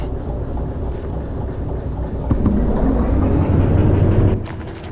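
A train in Derail Valley rolls forward hauling cars, with a steady low engine rumble and rail clatter that swells midway and stays loud before easing off.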